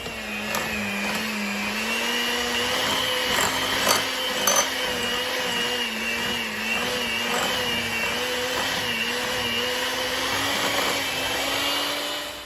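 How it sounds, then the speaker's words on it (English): An electric mixer whirs steadily and loudly through cookie dough, a constant motor drone with a slight rising pitch and no pauses. "slowly add the mixture till it's mixed together, till we make a little cookie dough."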